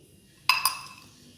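A wax crayon drops into a glass with two quick, bright clinks, the second a little softer, ringing briefly before fading into a quiet room.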